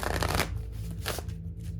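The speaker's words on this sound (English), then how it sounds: "I'm going to shuffle these a couple more times." Tarot cards shuffled up close in two quick bursts of papery riffling, each about half a second long, over a low background hum.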